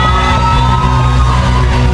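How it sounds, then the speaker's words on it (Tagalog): A church congregation at a midweek service cheers and shouts together in a loud, sustained roar that holds steady throughout, filling the room with massed voices. "pinakamalakas sa sigaw at hiyaw."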